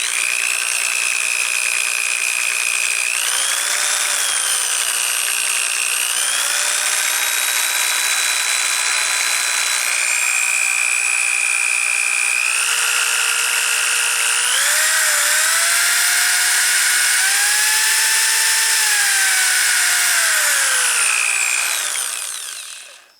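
An electric drill spins a motorcycle gear drive tachometer on the bench, giving a steady high whine that shifts up and down in pitch as speed changes, loud and close, then winds down at the end; no talking.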